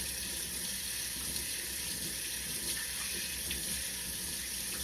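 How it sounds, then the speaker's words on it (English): Tap water runs steadily into a kitchen sink as corn is rinsed, a constant close splashing rush that fills the whole stretch without any talk. "I'm gonna rinse my corn off"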